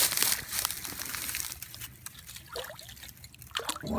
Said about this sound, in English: Pulling water sets here out of the ice.